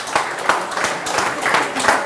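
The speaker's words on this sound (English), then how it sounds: "Give yourselves a round of applause for that." Applause from a quiz audience at a live agile meetup, a steady wash of many hands clapping at moderate loudness throughout, with no talk over it.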